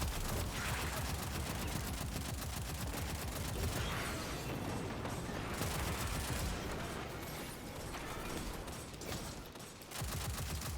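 Dense, continuous gunfire from a video game, rapid overlapping shots forming a steady barrage throughout with no clear pauses.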